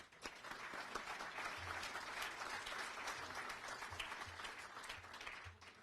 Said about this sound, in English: So please join me in a round of applause for our early supporters and adopters.